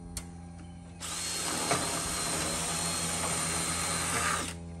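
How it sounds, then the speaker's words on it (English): A power drill pre-drills through a metal mobile home gutter, whirring steadily for several seconds close up after a brief quiet start, then cutting off. "Pre-drilling, because you're going through metal, obviously, and these screws will go through metal"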